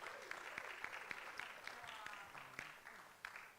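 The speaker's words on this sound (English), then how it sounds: "Oh, please, let's applaud her." At a national nursing and midwifery delegates conference, an audience applauds the president. The clapping is quiet and distant, with scattered crisp claps and murmuring voices underneath.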